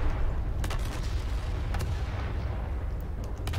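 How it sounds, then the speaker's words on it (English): Artillery shells from a naval battle in the From the Depths game rain down as a steady rumbling barrage, with scattered sharp distant impacts over a continuous low roar. "The last shells come raining in."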